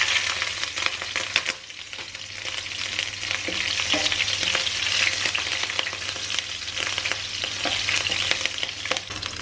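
Green chilies fry in hot oil with whole spices such as cinnamon for a kadhai chicken, a loud, continuous crackling sizzle with stirring scrapes and pops, close and without talk.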